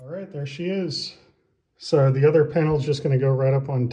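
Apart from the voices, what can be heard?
No distinct noise like a dog, phone or traffic.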